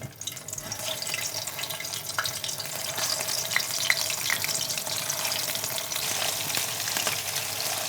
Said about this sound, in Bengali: শেফ, আমরা কি আবার ডুবো তেলে ভাজা শুরু করব?